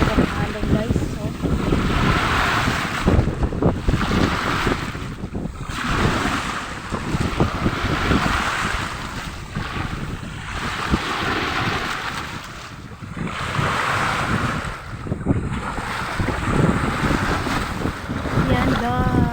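Rough, strong sea waves churn around a small boat at sea, a continuous loud rush of water rising and falling in surges, with heavy wind noise on the microphone and a voice in the background.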